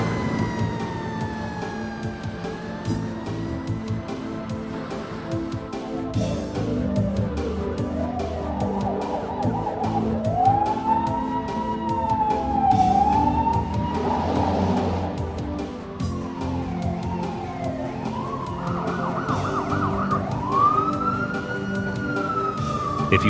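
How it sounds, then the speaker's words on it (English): Emergency vehicle sirens wail and yelp continuously, rising and falling in pitch as several units pass through traffic, loud and close, with engine rumble underneath. "yield the right-of-way to emergency vehicles when their siren and/or flashing lights are in operation"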